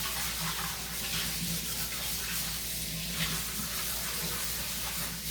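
Water runs from a kitchen tap into a pan while a pork chop bake is made, a steady close hiss of flowing liquid lasting a few seconds with no talk over it.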